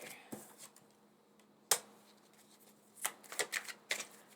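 A deck of tarot cards is shuffled in short, quiet bursts: a single riffle, a sharper one near the middle, then a quick cluster of snappy shuffles at the end, with no talking.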